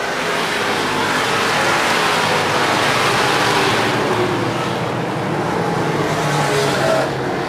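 Stock cars race around a track in the closing laps of a Seven Rivers Racing event, a loud, dense, unbroken roar of several engines at full throttle with no talking.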